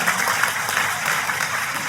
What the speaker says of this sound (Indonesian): sekali lagi boleh kasih tepuk tangan yang paling meriah